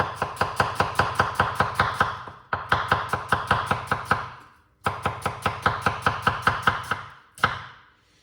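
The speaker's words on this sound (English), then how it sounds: "we're going to cut up some onion" Knife chopping onion on a cutting board in a home kitchen, a fast steady run of crisp, close taps in three bursts separated by short pauses, ending with a single louder chop.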